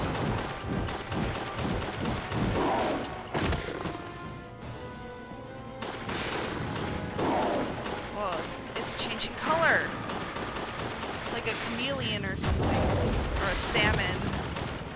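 Gunshots fired at a monster in Resident Evil: The Darkside Chronicles, scattered sharp blasts mixed with game noise and crashes, with someone talking over much of the action.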